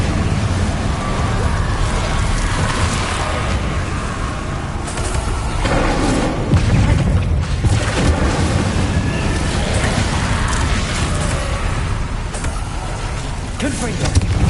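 The Incendio fire spell being cast in Hogwarts Legacy, a video game, gives a dense, continuous roaring whoosh of flames, loud and steady throughout with surging swells, like rushing wind or rain.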